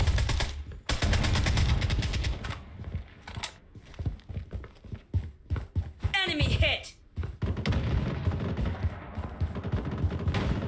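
Bursts of automatic gunfire and single shots crack loudly through a Project Bloodstrike battle royale match, dense and continuous with rattling mechanical thuds between volleys, and a voice speaking over part of it.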